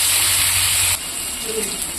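Fish and tomato dropped into hot oil in a pan give a loud hissing burst for about a second, which then settles into a softer, steady sizzle.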